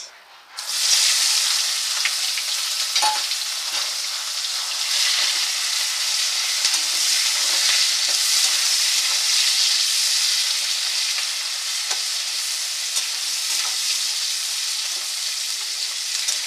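Chopped onion dropped into hot oil for a chicken and moong dal curry erupts into a loud, close, steady sizzle after a brief quiet start, with occasional faint stirring clicks and no talking.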